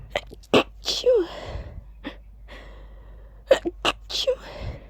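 Big human sneezes, several in a row: sharp explosive bursts with breathy gasping inhales between them, loud and close, in two clusters separated by a brief pause.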